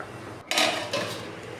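A lid set onto a pot of egg curry, one sharp metallic clank followed by a softer rattle as it settles, close and clear with no talk.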